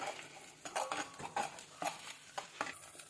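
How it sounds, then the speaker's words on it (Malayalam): A spoon scrapes and taps a pan as ground tomato and shallot paste fries in coconut oil for a Kerala fish curry, giving a handful of close, clear clinks and scrapes over a faint, low sizzle. "തക്കാളി പേസ്റ്റ് വെളിച്ചെണ്ണയിൽ കിടന്ന് നന്നായിട്ടൊന്ന് ഫ്രൈ ആയി കിട്ടണം."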